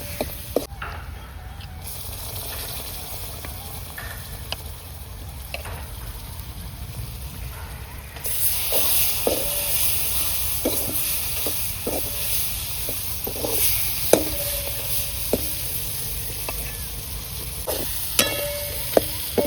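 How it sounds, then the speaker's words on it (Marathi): Mutton fries in a pan in a home kitchen, a constant soft sizzle and hiss with scattered light clicks and taps of stirring, growing a little louder partway through. "मस्तपैकी फ्राय चालली आहे मित्रांनो या ठिकाणी"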